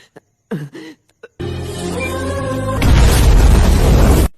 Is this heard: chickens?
no